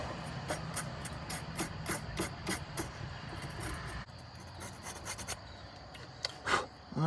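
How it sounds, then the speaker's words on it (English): An emery board files the end of a brake line on a 1972 Ford F100, giving quiet repeated rasping strokes in short bursts with a brief pause midway. "Emery board for filing nails."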